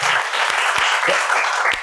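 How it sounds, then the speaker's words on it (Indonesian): Audience applause, a dense steady clapping from a crowd that runs throughout, fairly loud and close, with no talking over it. "tepuk tangan dong"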